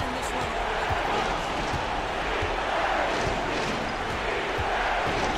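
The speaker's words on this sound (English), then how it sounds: "The crowd is getting wild." A crowd in the basketball video game NBA 2K24 roars continuously and loudly, with scattered ball bounces and thumps beneath a dense wash of arena noise.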